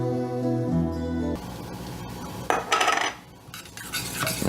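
Parsley, sage, rosemary and thyme stirred in a pan with ground beef, a close utensil scraping and clattering against the metal, preceded by a brief tonal sound.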